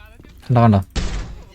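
A single loud gunshot fired at a cash counter during a jewellery store heist in GTA, a sharp blast with a decaying tail, following a short burst of voice.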